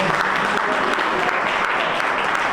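Sustained applause from an audience honouring a group of trainees, a steady, even wash of many hands clapping throughout with a faint murmur of crowd beneath.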